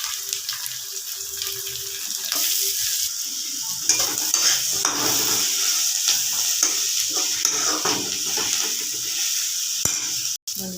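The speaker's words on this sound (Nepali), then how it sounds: "प्याज रातो हुन लागेको छ, मटर लगाइदिन्छु। यो क्याप्सिकम लगाइदिउँ, टमाटर पनि लगाइदियो।" Peas, onion, capsicum and tomato frying and being stirred in a pan, a steady close hiss of sizzling with scraping stir strokes throughout, no talking.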